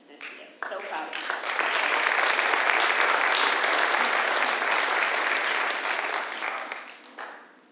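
Audience at a school culminating ceremony breaks into sustained applause, swelling quickly, holding steady and full for several seconds, then tapering off, with a brief voice before and after the clapping.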